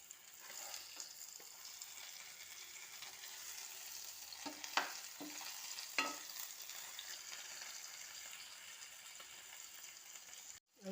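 Rava-coated pomfret fish frying in hot oil in a pan, a steady soft sizzle with a few sharper crackles and scraping taps midway, heard close with no talk.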